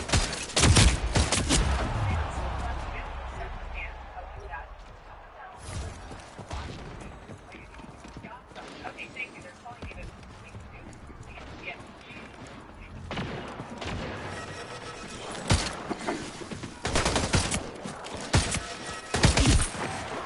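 Rapid gunfire from a power weapon in a video game arena crackles in dense bursts, loudest near the start and again toward the end, with quieter stretches of game noise between.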